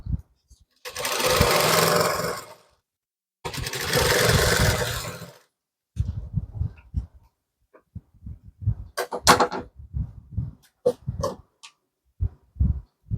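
A sewing machine stitching a blouse in two steady whirring runs of about two seconds each, followed by someone speaking with small handling clicks.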